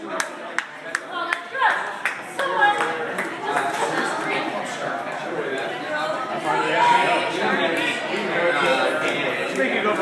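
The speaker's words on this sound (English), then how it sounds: "Give a big round of applause!" A party game audience claps and cheers, starting with a few scattered claps before building into sustained applause mixed with crowd chatter, voices talking throughout.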